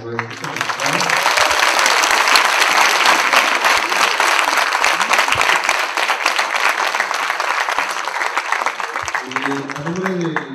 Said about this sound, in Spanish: damos un aplauso a nuestro congresista.